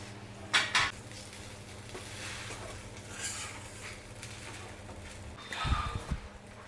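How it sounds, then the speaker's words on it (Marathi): A spoon scrapes and clanks against a pan while sabudana khichdi with ground peanuts and salt is stirred and sautéed. A few sharp metallic knocks stand out over a soft background rustle, and no one speaks. "खिचडी आहे ना अशी व्यवस्थित परतून द्यायची"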